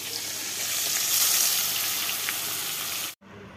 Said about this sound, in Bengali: তো মাছগুলোকে এই যে ভেজে তুলছি